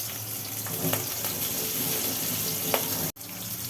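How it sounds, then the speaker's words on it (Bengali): Nigella seeds and green chillies hit hot oil and sizzle in a steady, close hiss, with a few light pops and a sudden brief cutoff near the end. "এইবার তেলের মধ্যে ফেলে দেওয়া হলো কালো জিরে আর সঙ্গে দেওয়া হলো কাঁচা লঙ্কাই"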